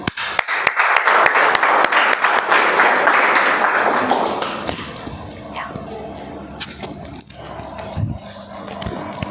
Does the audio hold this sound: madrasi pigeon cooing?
no